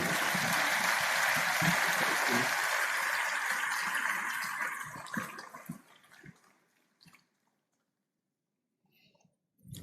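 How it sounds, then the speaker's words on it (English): A conference audience at a Nigerian Bar Association event applauds in a thick wash of clapping that holds strong for about five seconds, then thins into a few scattered claps and fades to near silence. "Please, another round of applause for that."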